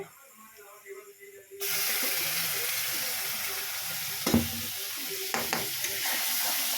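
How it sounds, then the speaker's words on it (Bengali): Chicken and spices fry in a pan, a steady loud sizzle starting after a quieter opening, with a few sharp clanks of stirring or lid handling partway through. "আর এরকম আস্তে আস্তে মশলাগুলো দিয়ে ভেজেই যাবে"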